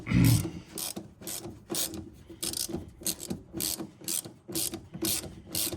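A ratchet wrench backs a 3/8 bolt out of the main wiring harness junction in a squarebody truck, with a steady series of close, rhythmic clicking strokes and no talking.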